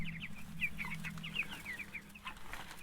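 Meat chickens cluck in a brooder pen, giving a run of short, chirpy calls close by over a steady low hum. No one speaks.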